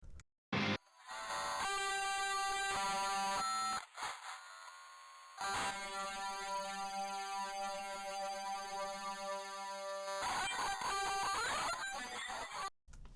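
Buzzy, harmonically dense synthetic music, processed through a stereo spreader plugin, plays in loud sustained bursts separated by brief gaps, with a wide, smeared tonal texture.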